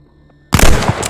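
Sudden burst of gunfire in the World War II shooter Call of Duty: Vanguard, during the Rats of Tobruk campaign mission, a loud, abrupt rattle of shots breaking a near-silent lull.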